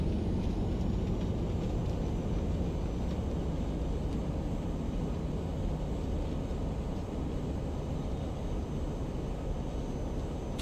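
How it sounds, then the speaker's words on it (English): Boeing 737 thrust reversers roaring after touchdown in a Prepar3d flight simulator, a steady, dense low rumble that holds loud and unbroken throughout with no voices. "Two good reversers."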